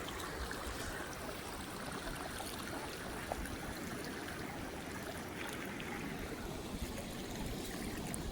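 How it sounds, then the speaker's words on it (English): Floodwater at a campground resort streams steadily toward a ravine, a continuous broadband rushing and trickling wash with no breaks, fairly soft and even throughout, with no voices. "Water going all the way down to the"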